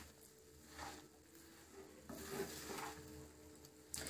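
Puffed rice being stirred into hot jaggery syrup for pori urundai, giving soft crackling, scraping rustles in a pan, with two louder stirring bursts and a sharp clink near the end.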